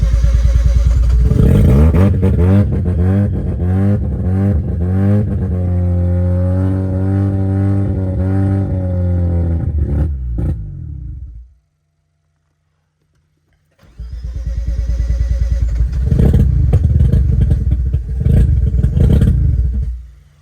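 A rebuilt Mazda RX-7 FC rotary engine cranks, catches and revs loudly, rising and settling in pitch for about ten seconds, then falls silent briefly before firing up again into rough, loud running.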